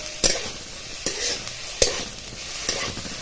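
Dry coconut and spices stirred in a hot pan for amti, a continuous dry rustling sizzle marked by about five sharp spatula scrapes at uneven intervals, close and fairly loud with no speech.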